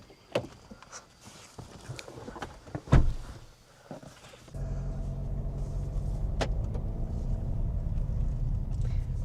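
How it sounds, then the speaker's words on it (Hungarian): DS 7 with a 1.5 diesel engine rumbling while driving, a steady low drone rising after a few seconds of quieter cabin sounds and a door-like thump, with speech inside the car. "Az a dízeles morgás."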